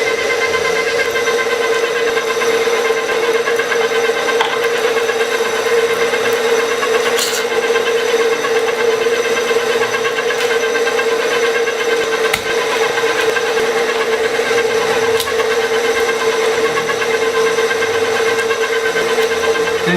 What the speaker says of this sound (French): Maintenant on hache la viande.